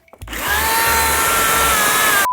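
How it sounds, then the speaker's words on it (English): A power drill bores into a watermelon: a few faint knocks, then the motor spins up into a loud, steady whine that holds for about two seconds before cutting off. "Okay, I got my drill here,"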